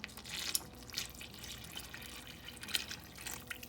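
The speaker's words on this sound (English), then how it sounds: "we're just gonna incorporate our wet ingredients in our dry ingredients," Wet ingredients for a Jamaican spice bun (Easter bun) batter are added gradually to the dry ingredients, making soft, close liquid drips and trickles that recur in faint bursts with no voices.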